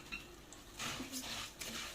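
Rice goes into a large cooking pot for one-pot koshari, making a soft rattling pour with light metallic clinks of pot and utensil, faint and close.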